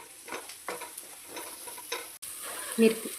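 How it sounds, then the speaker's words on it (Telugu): Paneer frying in oil in a pan, a continuous hissing sizzle with faint stirring scrapes, and a short tonal clink near the end. "ఇది ఆయిల్లో ఆల్రెడీ ఫ్రై అయిపోయిందండి. చక్కగా ఇలా ఫ్రై చేసుకోండి."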